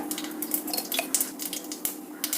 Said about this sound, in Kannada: ಎಣ್ಣೆ ಕಾದಿದೆ ಸಾಸಿವೆ ಹಾಕೋಣ